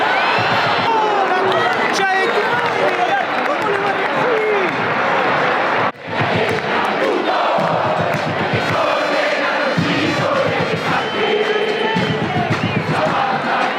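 A football crowd roars and chants at the Rosario derby in Argentina, a dense, loud, continuous wall of voices with a sharp thump near the middle and rising swells of cheering.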